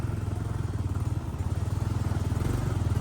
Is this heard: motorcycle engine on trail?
yes